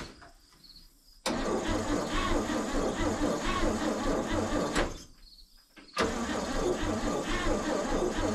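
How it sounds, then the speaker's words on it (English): A 1961 Chevy Viking 60 truck engine cranking over twice, each a long steady whirring grind of the starter that stops abruptly, with quiet pauses between, close and loud. "let's crank her over, see what happens."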